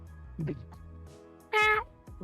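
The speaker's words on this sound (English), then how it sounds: "my cat Salem says great" A house cat lets out a single clear, drawn-out meow, loud and close, following some quieter indoor sounds and short bits of voice.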